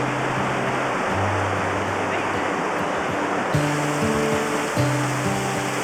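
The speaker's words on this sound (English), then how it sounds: "You have a pretty big rain shower here." A heavy rain shower falling outdoors on a Scottish NC500 campervan trip, a loud, steady roar of pouring water that masks nearly everything, with faint low tones running underneath.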